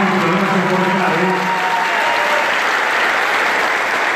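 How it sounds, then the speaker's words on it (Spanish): A concert crowd in Paysandú bursts into loud sustained applause, dense clapping throughout, with a voice over a sound system speaking briefly at the start. "¡Fuerte el aplauso para él!"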